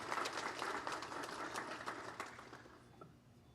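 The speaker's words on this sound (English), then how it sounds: "Can we have a round of applause for her?" Applause at an evening school board meeting, a crowd clapping for a retiring staff member; steady, moderately distant clapping that slowly fades toward the end.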